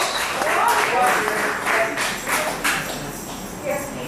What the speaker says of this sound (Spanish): Denle un aplauso fuerte a Jesús, si usted puede.